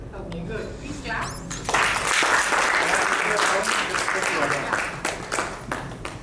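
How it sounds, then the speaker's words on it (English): An audience at a leadership event breaks into applause, building quickly after a few seconds of voices into loud, sustained clapping from a large room. "Please clap."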